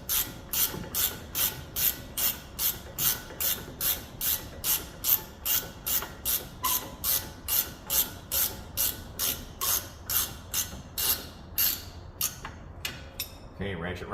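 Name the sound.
ratchet wrench on CV axle bolt of 2019 Ram 1500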